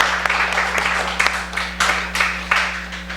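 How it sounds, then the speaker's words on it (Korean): Church congregation applauding after a special song during a Sunday service, a modest room-filling patter of clapping with a few sharper claps standing out, steady over a low electrical hum. "너무 감사한 찬양을 불러주신 김민영 집사님 가정에게 다시 한번 박수 한번 드리겠습니다"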